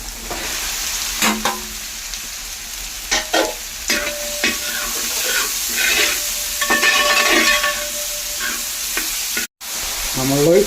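Onions frying for chicken biryani sizzle steadily in a pan, with a spoon scraping and stirring at intervals in a series of sharp clinks and scrapes; no one talks.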